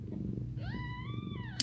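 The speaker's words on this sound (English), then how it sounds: "Yeah, Mama's purring for sure. She's almost always purring." A mother cat purrs with a low, steady rumble close to the microphone, broken by one clear rising meow partway through and a faint click at the end.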